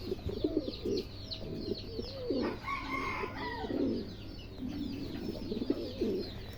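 Fancy pigeons coo nearby in several soft, bubbling bursts, with scattered chirps and calls from other birds over low background noise.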